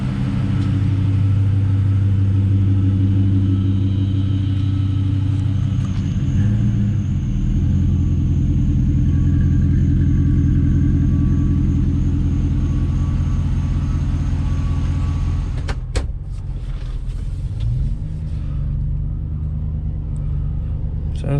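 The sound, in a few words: 2008 Ford F150 idling with Flowmaster muffler exhaust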